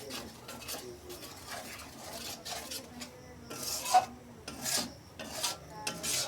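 Yogurt and spices stirred in a pan over low heat: rhythmic scraping and rubbing of a spoon against the pan, with soft clinks between strokes, close and moderately quiet.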